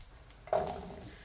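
Butter hitting a hot pan of chicken livers for peri peri livers, with a sudden sizzle about halfway through that keeps up as a steady crackle, close and fairly quiet.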